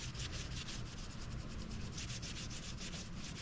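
Steady, close scrubbing of dried residue off a bandsaw wetted with lacquer thinner, a dense rasping rub with quick repeated strokes, continuous and unbroken with no voices.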